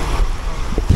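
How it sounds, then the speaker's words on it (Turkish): Strong wind buffets the microphone with low rumbling gusts, over a faint background of outdoor noise near the water at a beach near Pylos, Greece. "Ya çok rüzgarlı Mert."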